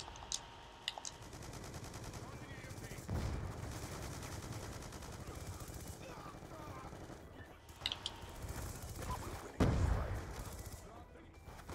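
Gunfire in a tactical shooter video game, with sharp shot bursts near 3 and 10 seconds and scattered quieter pops over a steady game background.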